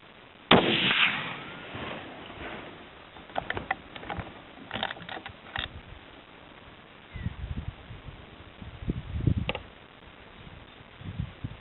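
A .30-06 rifle firing a 150 grain Winchester Silvertip round gives one sharp, loud report early on, followed by quieter knocks, rustles and handling noise outdoors.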